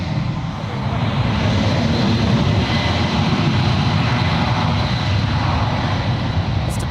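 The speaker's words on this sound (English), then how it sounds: "That is Lufthansa Flight 454 making an approach." A Lufthansa airliner arriving from Frankfurt on approach at San Francisco International Airport, its engines a loud, steady, broadband roar that swells slightly and holds, heard up close with no voices.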